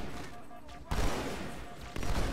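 Rapid gunfire bursts in Halo: The Master Chief Collection, two dense loud volleys that break out suddenly over a quieter game background.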